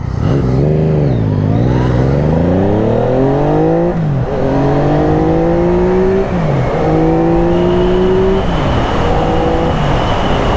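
A motorcycle engine revs up hard through several gear changes, its pitch climbing and dropping between shifts, loud and close.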